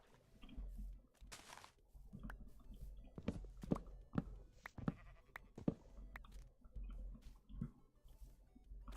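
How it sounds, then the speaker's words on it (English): Sheep in the Minecraft video game bleat several times in short, separate calls, with soft footsteps and quiet game ambience in between. "A lot of sheep."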